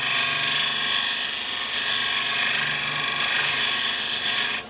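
A parting tool cutting into wood on a lathe while turning a sword, a loud continuous scraping whir with a steady hum underneath that eases off at the end.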